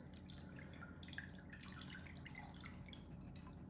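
Cooled brine, chilled with a few handfuls of ice, is poured over beef brisket for homemade corned beef, giving a steady liquid splash and trickle with faint drips throughout.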